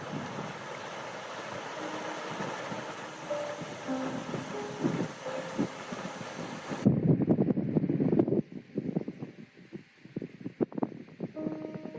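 Wind sweeps across open ground in the Scottish Central Highlands, a steady rushing noise with buffeting gusts against the microphone that grow rougher and louder partway through.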